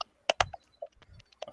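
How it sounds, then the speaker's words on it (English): Someone types on a computer keyboard nearby, giving a few irregular clacks and softer key taps with short pauses between them. "it's typing on the keyboard"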